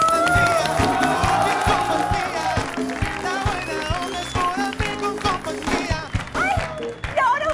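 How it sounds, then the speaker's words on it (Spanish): A TV studio audience cheers and applauds, with loud whoops and shouting voices in a steady, dense roar that runs the whole time beneath an excited host's talk. "¡Fuerte el aplauso para el estelar del pueblo junto a Pola, Eva y Angélica, las Iluminadas!"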